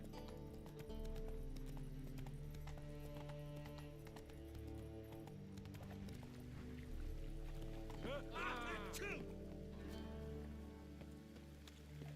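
Horse hooves clip-clop in The Witcher 3: Wild Hunt on PC, a steady rhythmic trot running under a bed of game music and ambient rain, with a brief whinny-like rise midway and a voice speaking over it.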